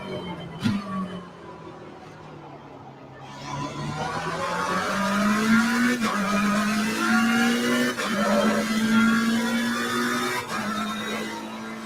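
In Assetto Corsa Competizione, a race car engine drones at high revs through a lap, pitch rising and dipping with gear changes, loud and continuous with faint tire noise.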